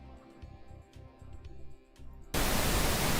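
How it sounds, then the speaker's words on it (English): Static white noise bursts in abruptly and loud, a dense even hiss that replaces quieter music just before it. "That's white noise, why is it called pink noise?"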